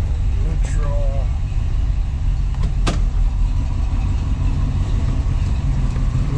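A 1970 Ford Mustang Boss 302 Sports Roof engine idles with a steady low rumble, with a couple of brief clicks and a faint voice over it.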